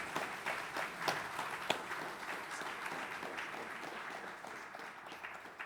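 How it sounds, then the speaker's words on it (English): Applause from a seated audience at a morning business summit panel, a steady patter of clapping at moderate level with a few sharper claps standing out, continuing evenly without voices. "let's give a round of applause to our panelists"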